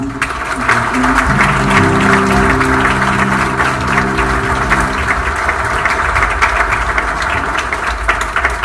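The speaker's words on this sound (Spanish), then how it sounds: "Vamos a dar un aplauso con ustedes para que se sienta un poco más." A crowd at a church Mass claps steadily in a sustained round of applause, with a low humming drone and musical tones underneath.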